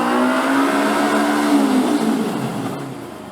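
A Kawasaki Ninja 250 FI motorcycle engine revs loudly inside a tunnel, a steady echoing drone with rising harmonics that holds strong before easing off near the end; no one speaks.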